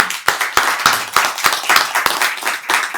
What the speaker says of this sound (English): I really do want a big round of applause for David Roberts